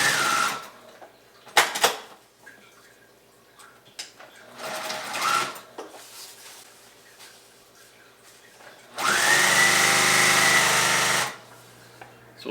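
A sewing machine stitches the seams of a bridge hammock underquilt protector, with short bursts of fabric handling followed by a loud, steady run of whirring stitching near the end.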